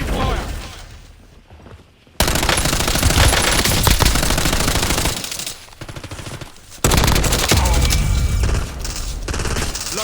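Machine gun fire in the video game Warzone pours out in long, loud, dense bursts that start abruptly, briefly ease off and then resume at full force.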